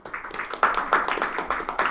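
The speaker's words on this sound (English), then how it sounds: "Let's give a round of applause." A small audience claps after a presentation, giving a short burst of irregular, fairly close handclaps from a few people that rise and fall quickly.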